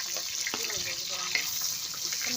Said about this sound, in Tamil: சோம்பு பொரிஞ்சதும் வெங்காயம் சேர்த்துக்கலாம்.